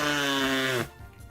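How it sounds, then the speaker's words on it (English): One loud, honking nose blow with a tonal, slightly falling pitch that cuts off sharply and leaves quiet room noise. "I'm gonna blow my nose once and then we're gonna get started"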